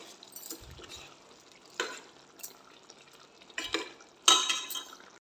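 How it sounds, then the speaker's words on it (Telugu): Chicken curry with garam masala, chicken masala and coriander being stirred in a pot, a few scattered scraping and clinking strokes of a spoon against the metal over a faint background, the last one sharpest. "ఒకసారి కలిపేసుకుంటున్నాను"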